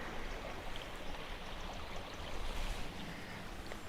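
River water pouring steadily over a weir on the Limestone Way near Youlgreave, a continuous broadband rush at moderate distance with no voices.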